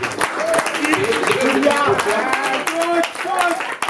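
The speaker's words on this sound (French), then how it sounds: "Est-ce qu'on peut applaudir pour Céleste?" A comedy show audience claps for a man at a one-man show, a brisk burst of clapping mixed with voices and cheering close by.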